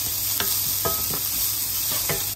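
Onion and garlic sizzling steadily in a pan while being stirred, with a few scraping strokes of the spoon over the constant close frying hiss.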